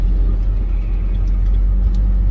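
Steady low engine rumble from inside a moving car overtaking another car, a continuous road drone with no distinct pass-by swell.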